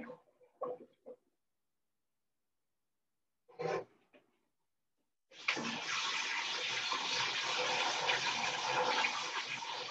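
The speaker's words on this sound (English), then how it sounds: "Pour cold running water over them." Cold tap water runs steadily over eggs in a pot, a continuous splashing rush that starts after a few brief knocks and a quiet stretch, then stays loud to the end.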